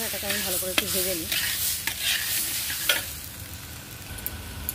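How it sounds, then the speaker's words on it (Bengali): Rice and ginger paste sizzle in a hot pan under sharp, intermittent scrapes of a stirring spoon, with a brief voice at the start before the frying continues alone. "এটাকে আমি ভালো করে একটু ভেজে নিই"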